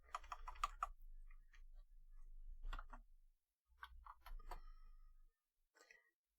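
Clicky bursts of typing on a computer keyboard, quick irregular keystrokes in short runs separated by pauses, close and quiet, alone in otherwise near silence.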